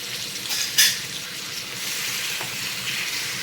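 Steady sizzling and frying of cumin seeds and dried coconut in a hot pan with a brief scraping stir, continuous and close, no voices.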